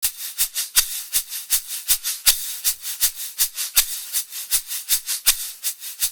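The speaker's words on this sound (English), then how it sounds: "So cool what a shaker can add to a track." A shaker and tambourine loop plays back in a steady, bright rhythm, crisp close hits repeating evenly about three times a second on their own.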